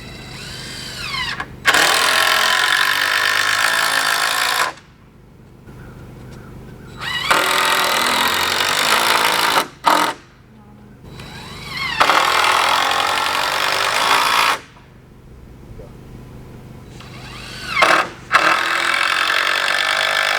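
A cordless screw gun drives screws in loud, close bursts of high whirring, several runs of a few seconds each, with brief quiet gaps between them and no talking.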